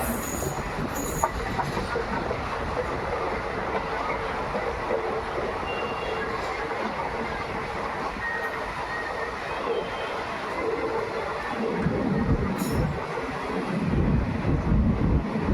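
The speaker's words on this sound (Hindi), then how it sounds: "प्यारे से मौसम के बीच में रतनगढ़ जंक्शन पर बढ़ती हुई हमारी ट्रेन" The Bikaner–Delhi Sarai Rohilla superfast express rolls into Ratangarh Junction toward platform 1, a continuous rumble of wheels on rail with faint squeals, swelling louder near the end, heard from on board without talk.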